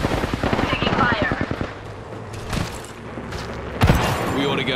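Rapid automatic gunfire in Apex Legends, a dense burst of shots up front that tapers off, then a sharp louder blast near the end, with a voice talking over the game sounds.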